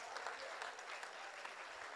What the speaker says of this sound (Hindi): जो कविता समझते हैं वो हाथ उठाकर तालियां बजाएं।